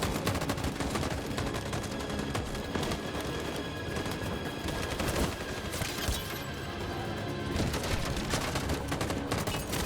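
Heavy supporting gunfire in the Detroit: Become Human video game, continuous rattling automatic fire from several guns, loud and dense for the full ten seconds with no pause.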